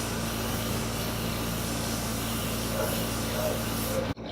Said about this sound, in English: But then I'm going to take the Morphe setting spray.